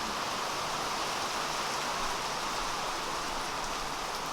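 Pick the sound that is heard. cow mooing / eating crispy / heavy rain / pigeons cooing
heavy rain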